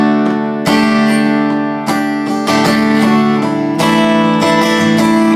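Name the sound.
guitar playing chords with suspended fourths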